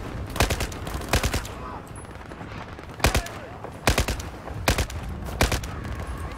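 Battlefield 4 weapon gunfire in a few separate rapid bursts of loud shots, with gaps of quieter game ambience between them.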